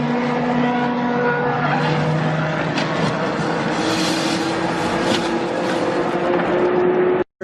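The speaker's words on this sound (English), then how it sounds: "Oh, an impact! What a crash!" Race car crash on a track, with loud continuous tire skidding and engine drone sustained for about seven seconds before cutting off abruptly.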